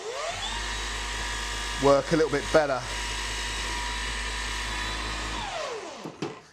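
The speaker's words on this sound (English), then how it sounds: "Messy, horrible work, all that wet sanding." Power sander wet sanding a car headlight during restoration, a steady motor whine running for several seconds before spinning down, with someone briefly speaking over it.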